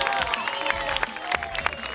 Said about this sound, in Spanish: Aplausos para todos los participantes.